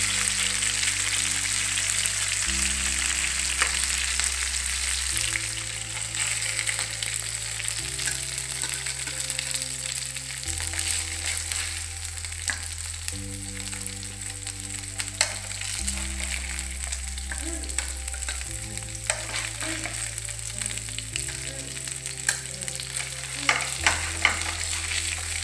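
Dense, continuous sizzle of anjal fish, a kilogram of it, frying in oil in a pan, steady and close with occasional crackles and pops throughout.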